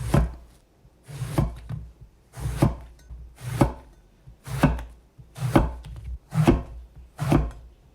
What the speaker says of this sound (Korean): 가지는 식감을 위해 1cm 두께로 썰어주세요